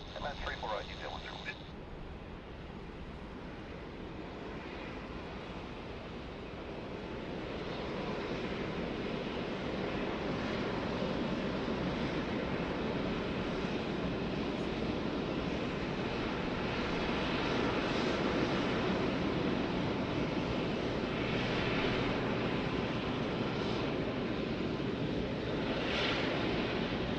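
A jet airliner lands on runway 34 at Sydney Airport, its broad engine roar steady and fairly loud as it approaches and rolls out, blended with wind noise and a faint radio voice.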